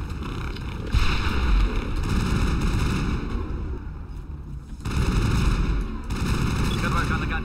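A turret gun firing in Mass Effect on Virmire, rapid dense bursts of gunfire and fusillade-like crackle, loud and continuous with brief lulls, alongside combat noise.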